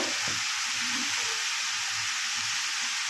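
Rock sugar and flat beans fry in a pan, making a steady, even hissing sizzle with faint low stirring bumps underneath.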